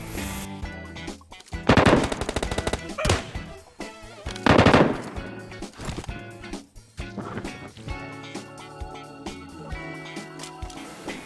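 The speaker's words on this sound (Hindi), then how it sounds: "तभी इधर फायरिंग होती है" Gunfire bursts in the battle royale game PUBG, with two loud volleys standing out among rapid game sound effects and busy background audio.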